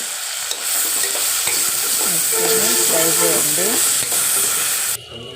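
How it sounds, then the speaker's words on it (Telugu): Toor dal frying with tomato, coriander, curry leaves and green chillies, a loud close steady sizzle and hiss with spoon scraping and stirring, cutting off abruptly near the end, no talking. "ఫ్రై చేయండి. ఇలాగా ఫ్రై అయిపోవాలి."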